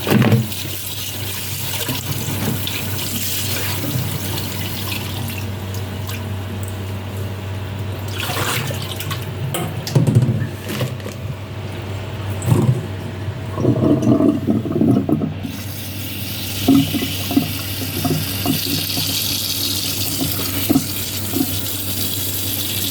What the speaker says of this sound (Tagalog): Hugasan ko pa ng paulit-ulit yung mushroom